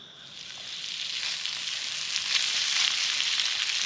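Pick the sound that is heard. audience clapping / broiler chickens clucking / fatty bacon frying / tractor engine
fatty bacon frying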